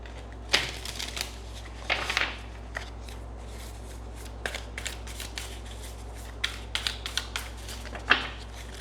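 Tarot cards are shuffled in soft, papery riffles and flicks, close by, in irregular bursts with quiet gaps and a low steady hum beneath.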